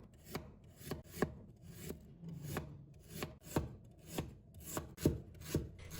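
Knife chopping through peeled fresh ginger on a cutting board, about a dozen crisp, evenly spaced taps close by, with faint rubbing between strokes and no voices.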